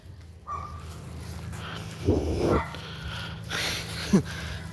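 Dogs barking outdoors, a few short barks and yips at moderate distance amid street background noise.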